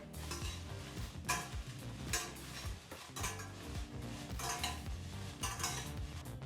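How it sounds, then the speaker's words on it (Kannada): Byadagi chillies roasting in a pan over low to medium flame, with repeated scraping and stirring of a utensil against the pan over a soft crackle, fairly quiet and continuous with rhythmic stirring strokes. "ಈಗ ಇಲ್ಲಿ ಬ್ಯಾಡಗಿ ಮೆಣಸಿನಕಾಯಿನೂ 3-4 ನಿಮಿಷ ಲೋ ಟು ಮೀಡಿಯಂ ಫ್ಲೇಮ್ನಲ್ಲೇ ಚೆನ್ನಾಗಿ ಹುರಿದಾಯಿತು"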